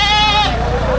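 A goat at a livestock auction in Padre Garcia, Batangas gives one loud, close, sustained bleat with a wavering, nasal tone, heard alone and filling the short moment.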